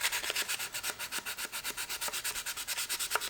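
Rapid, even back-and-forth rasping as sandpaper works over a primed Rubies toy E11 blaster, close and steady with about a dozen strokes.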